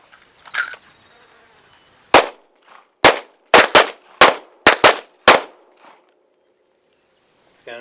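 A Guardian 6 defensive pistol fires seven sharp, loud gunshots in an uneven quick string outdoors, each crack short with a brief tail, with faint sounds before and after.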